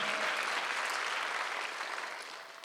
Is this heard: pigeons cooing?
no